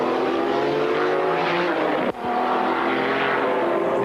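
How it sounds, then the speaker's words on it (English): A Ferrari F40 race car screams along the Jerez circuit during a 1995 GT race, heard from on board as a loud sustained engine wail that drops sharply at a gear change, then climbs again. "5th is Belmondo's Ferrari F40 with our camera on board."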